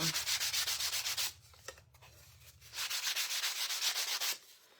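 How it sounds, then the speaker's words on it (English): A power sander with 120-grit paper smoothing small wooden ornament shapes, a loud, steady whirring rasp that runs, pauses briefly with a few soft knocks, then starts again and stops, close up with no voices. "I will always use my sander"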